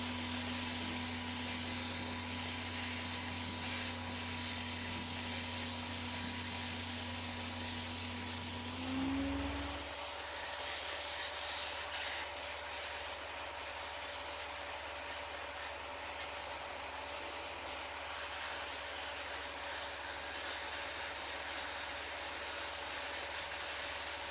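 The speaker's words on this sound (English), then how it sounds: "So watch the machine cut through wood so easily." A water jet cutting machine slices through a wood workpiece, a steady loud high-pressure hiss with a mechanical hum that drops and shifts pitch around ten seconds in, then continues as an even rushing spray alone.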